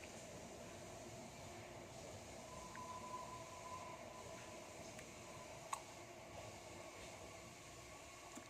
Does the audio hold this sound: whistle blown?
no